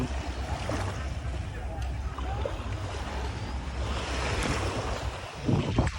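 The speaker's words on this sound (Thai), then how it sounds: "วันนี้ทะเลสวย คลื่นสงบครับ" Calm sea waves wash along Chaweng Beach on Samui as a steady broad surf hiss, with low wind rumble against the microphone and a slight swell of wash near the end.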